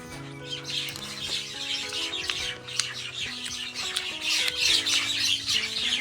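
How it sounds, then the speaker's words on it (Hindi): Birds squabble with dense overlapping chirps and squawks, close and busy, over a steady tonal hum throughout. "चिड़िया लोगों का झगड़ा चल रहा है भाई।"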